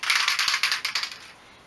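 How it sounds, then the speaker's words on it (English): A can of satin black car spray paint is shaken hard, giving close, rapid rhythmic rattles of the mixing ball that stop after about a second. "before you use it, you need to give it a really good shake"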